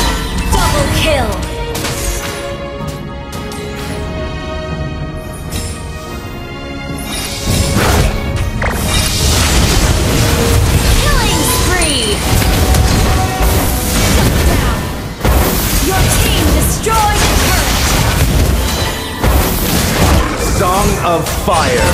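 Valir's lava burst fire ability in Mobile Legends: Bang Bang, loud booming, crashing fire blasts in a dense battle mix, with game voice lines spoken over the top.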